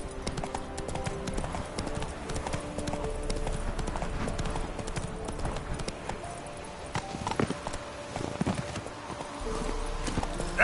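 Hooves clip-clop in a steady rapid gallop from a horse ridden in The Witcher 3, running continuously over game ambience with faint music, and someone talks briefly over it.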